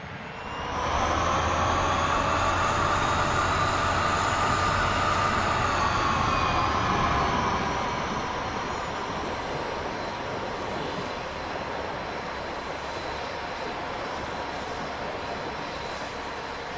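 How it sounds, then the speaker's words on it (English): The Douglas X-3 Stiletto's engine one spools up in X-Plane with a rising turbine whine and a steady roar that swells quickly, holds loud, then settles into a sustained whistling drone. "hold the start button for engine one until 1000 RPM showing on the gauge"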